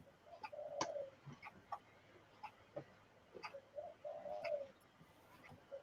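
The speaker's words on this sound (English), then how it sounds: "Can I hear a pigeon?" A Spinifex pigeon perched on a shed roof gives soft, repeated coos and short calls in an irregular series, moderately close against a quiet background.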